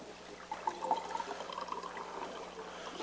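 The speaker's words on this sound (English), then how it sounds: "Pour some water here." Water poured into a glass at a meeting-room table, a soft, quiet trickle running for a few seconds against low room hum.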